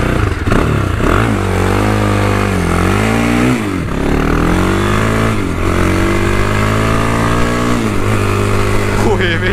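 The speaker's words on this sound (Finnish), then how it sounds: "Siis tää on joku SMC Wildcat, joku mönkkäri" An SMC Wildcat four-wheeled ATV engine revs repeatedly, rising and falling in pitch in several loud, close surges with a clattery mechanical edge.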